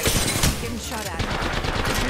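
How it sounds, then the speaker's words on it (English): Video game gunfire crackles in dense bursts and rapid automatic volleys throughout, loud and busy, with game voice chatter mixed underneath. "Getting shot at."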